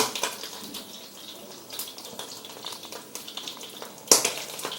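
Lobster tails fry in hot oil for mie goreng noodles, giving a continuous crackling sizzle with scattered pops and a sharp clatter near the end, and no talking.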